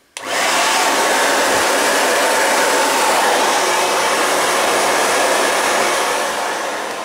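A hair dryer runs loud and close, a steady rushing blow of air that holds without a break.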